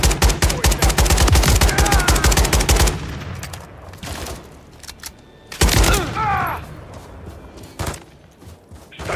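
Dense rapid automatic gunfire in a Modern Warfare III battle, loud and continuous bursts that pause briefly before another sharp volley erupts, with no talking.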